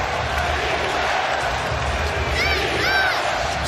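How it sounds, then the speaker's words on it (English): A sold-out arena crowd at an NBA 2022-23 season basketball game roars steadily. The noise stays dense and continuous beneath a commentator talking. "Sold out crowd. Nobody's left the building tonight."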